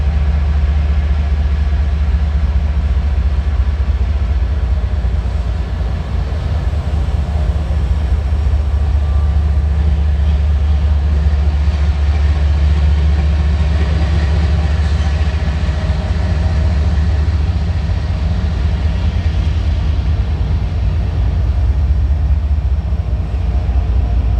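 A loud, steady low rumble of a freight train's diesel locomotive idling, constant throughout with a faint hiss of air brakes above, no voices.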